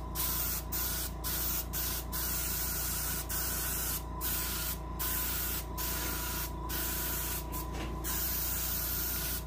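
Base coat sealer sprayed onto a brown bullhead catfish taxidermy mount, a steady close airbrush hiss running throughout with a few short pauses.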